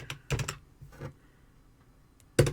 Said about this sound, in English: In their search area, you type in Calibre